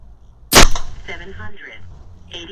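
One sharp, loud Edgun Leshiy 2 air rifle shot cracks close by, followed by a brief mechanical rattle and faint handling noises as it fades.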